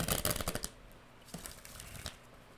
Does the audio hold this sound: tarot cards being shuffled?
yes